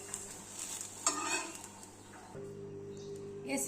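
Oil in a pan sizzles softly while a pesarattu dosa cooks, with a brief utensil scrape and clatter partway through.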